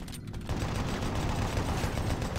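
Rapid chain gun fire in Doom 3, a dense, loud, continuous stream of shots with heavy low rumble filling the whole moment, no voices.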